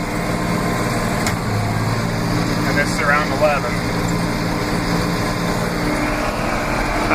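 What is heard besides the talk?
tractor with TM 1400 mower mowing at high speed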